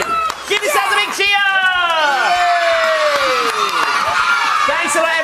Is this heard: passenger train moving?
no